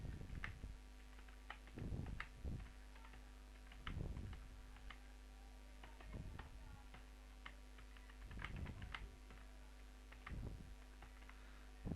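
Keys on a computer keyboard are typed at a relaxed pace in short bursts of clicks, faint and close, over a low steady hum with no speech.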